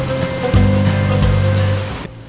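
Steady broadband rushing of a waterfall in Lauterbrunnen, Switzerland fills the clip, loud and continuous, with a low hum underneath, cutting off abruptly near the end.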